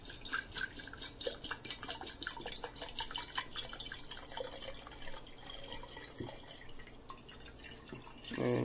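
Water pouring into a hydroponic Kratky container growing an aloe plant, a steady close trickle with dripping and splashing that continues throughout, faint and without talk.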